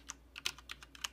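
Corsair K70 keyboard keys pressed one after another in an uneven run of about eight crisp, close clicks over a quiet background.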